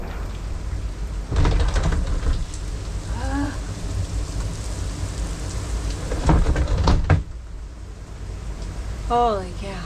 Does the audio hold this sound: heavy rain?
yes